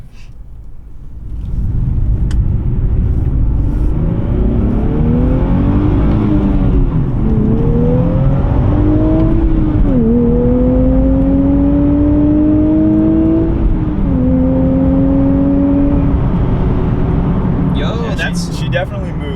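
A 2023 Nissan Z pulls hard through the gears, its engine note climbing in long rising sweeps that drop at each upshift, loud and close from inside the car, with the run easing off at the end.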